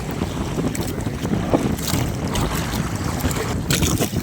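Strong monsoon wind at sea buffets the microphone with a loud, steady roar and rough gusts, with a boat and water churning beneath on a lobster-fishing trip.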